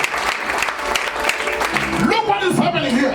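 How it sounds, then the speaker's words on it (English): Church congregation clapping hands together during a Sunday service, a steady dense patter throughout, with a voice singing or talking over the clapping in the second half. "Let's clap our hands for the reading of the word."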